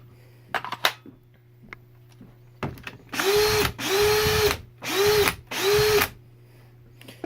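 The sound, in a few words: power drill running after brush replacement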